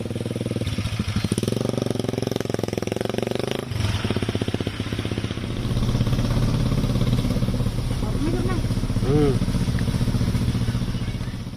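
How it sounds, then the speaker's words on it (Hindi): A homemade petrol motorcycle built from scrap materials runs close by with a loud, rattling engine note that shifts pitch as it idles and revs, with faint voices briefly audible near the end. "अब इसे पेट्रोल मोटरसाइकिल में तब्दील करके इसकी स्पीड बढ़ाई गई है।"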